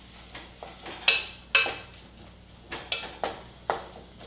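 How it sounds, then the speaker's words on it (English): Spoon scraping and knocking in a pan while stirring squash and thyme in oil, several close, irregular clanks and scrapes with a faint sizzle underneath. "I'm going to stir this around so that the thyme gets infused in the oil"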